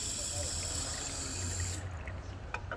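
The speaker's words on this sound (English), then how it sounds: "Water's flowing here, here, and here, which is good." Steady rushing water flows through an unrestricted catalytic converter, a continuous hiss that cuts out near the end, leaving faint drips and trickles.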